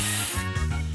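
Short spray burst from the Match Masters puzzle game, a loud broadband hiss that fades and shifts into a lower tonal whoosh within a second.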